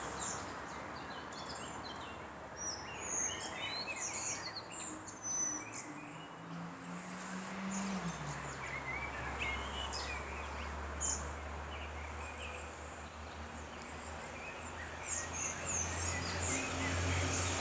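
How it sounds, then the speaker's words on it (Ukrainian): Birdsong in a pine forest beside a road, with scattered chirps and calls over a steady rumble of passing traffic, moderately distant and continuous. "Гарно співають птахи."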